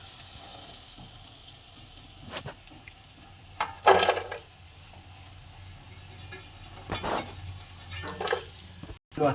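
KFC-style chicken popcorn pakoras deep frying in hot oil give off a steady bubbling hiss, with a few louder crackling bursts standing out close by.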